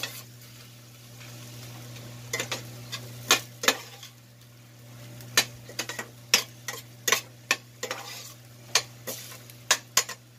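String beans and ground pork are stirred in a sizzling pan, a soft frying hiss under repeated sharp scrapes and clicks of a utensil against the pan, close and irregular.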